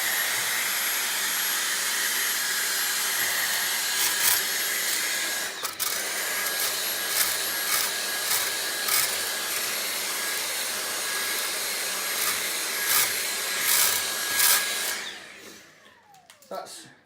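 A vacuum cleaner hoovers dust from inside a PC case, a steady loud broadband whine with small bumps as the nozzle moves, running for about fifteen seconds before winding down at the end.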